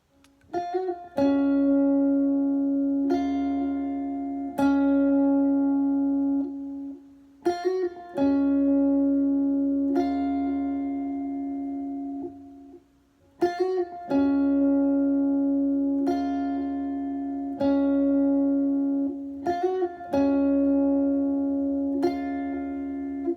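A guitar plays a slow, repeated picked pattern, each plucked note ringing out clearly with short pauses between phrases. No voices.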